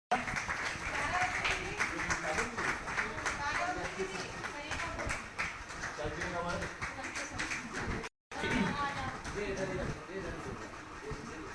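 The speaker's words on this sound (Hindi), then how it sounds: "देखिए तालियां बजाते रहेंगे।" Sustained crowd applause at a village panchayat gathering in Kannauj, dense and continuous clapping with a voice speaking over it, briefly cutting out before resuming.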